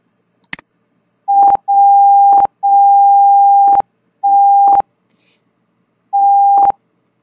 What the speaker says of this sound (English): If you want to have sound indication of needle movements,